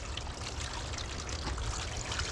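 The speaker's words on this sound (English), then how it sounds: "this is the bottom tray here. And what I'm gonna do is put water down in here." Water trickles and splashes continuously into a plastic bottom tray of a seed-starting setup, a soft, close, steady pouring sound with no voices.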